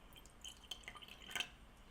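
Apple cider vinegar is poured into a glass for a fruit fly trap, a soft trickle with a few light drips and splashes, faint and brief with no voices.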